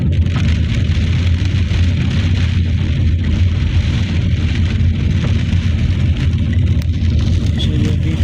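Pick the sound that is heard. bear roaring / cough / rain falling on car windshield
rain falling on car windshield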